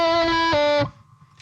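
A distorted electric guitar chord, played through a Boss GT-1000 Core multi-effects unit with no reverb, rings out twice in quick succession and then cuts off sharply, leaving almost no tail.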